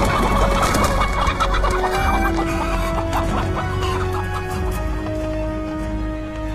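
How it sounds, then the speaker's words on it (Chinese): A chicken clucks loudly and close in a fantasy adventure film scene, with busy rhythmic clucking over a dense background of music and ambience. "今日落在弟子手， 取名唤作凤凰鸡"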